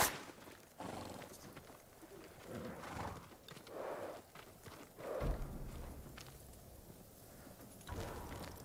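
Horse sounds from the video game Ghost of Tsushima, with clip-clopping hooves and a snort or whinny over a steady ambient background, moderately loud and continuous.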